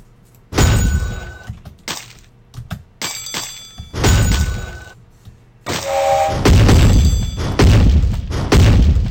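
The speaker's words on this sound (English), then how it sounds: "Explosions are good." Video game explosions from Burrito Bison, a string of loud booming thuds and crashes in separate bursts with short gaps between them, mixed with game effects and no talking.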